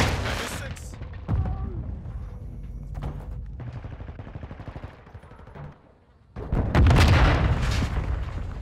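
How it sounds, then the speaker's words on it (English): A frag grenade goes off in Call of Duty: Modern Warfare II, a loud booming blast amid rapid gunfire bursts and game voice chatter, with a heavy low explosion swelling near the end. "Frag incoming."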